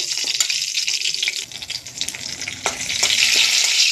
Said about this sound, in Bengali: একটা তেজপাতা তারপর একটা শুকনো লঙ্কা ভাজা ভাজা করে নেব